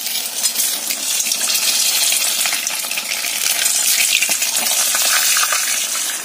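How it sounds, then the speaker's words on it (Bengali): An egg frying in a pan gives a loud, continuous crackling sizzle with fine spattering pops throughout, and no voices break in. "ডিমটা আগে ভেজে নিই"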